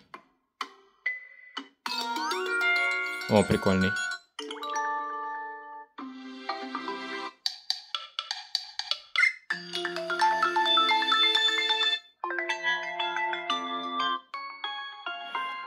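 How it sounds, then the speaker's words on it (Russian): A ringtone plays from an Honor X7C smartphone, a bright melodic sequence of chiming tones in repeated phrases, close and clear, with a brief spoken remark near the start. "вот этот рингтон, кстати, громче, чем Хоноровский"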